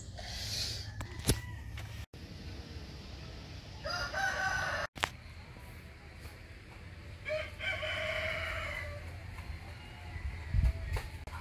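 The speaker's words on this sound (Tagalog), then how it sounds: "Maririnig yung mga tilaok ng manok." Roosters crow at dawn on a farm in Amadeo, again and again, some nearby and others farther off, with occasional clucking between the calls.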